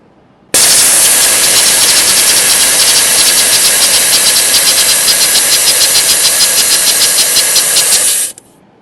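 A car tyre rapidly deflates through an onboard deflation system, a loud continuous hissing rush of air that starts abruptly, holds steady for about eight seconds and then cuts off, close and with no talking.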